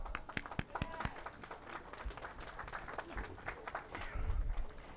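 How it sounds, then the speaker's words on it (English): A scattered round of applause for community supporters at a press conference, with sharp individual claps at first, then a thinner, uneven patter of hands at low volume and some crowd murmur. "So I want to give them a round of applause"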